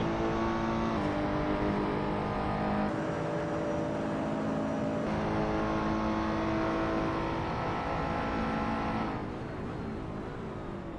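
A GT3 race car engine in a racing video game revs hard and climbs steadily through the gears, a loud, continuous whine that briefly dips at each shift and tails off slightly near the end.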